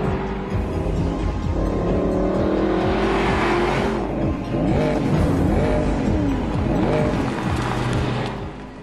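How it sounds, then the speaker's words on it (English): A Mercedes-Benz SLS AMG sports car's V8 engine revs and roars, rising and falling through several loud, sustained surges as it accelerates, with possible tire squeal and no talk. "The ecstatic, hungry sound of the motor can make passengers feel giddy."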